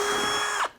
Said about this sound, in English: Being really careful because it does bind on the plastic